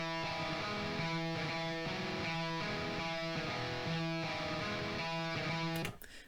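Guitar part from the Odin 2 guitar VST, a steady rhythmic pattern of repeated chord stabs with clean, bright harmonics, played alone at moderate level before cutting off abruptly near the end.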